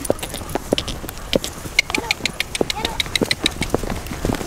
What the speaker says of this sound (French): Allez, galop.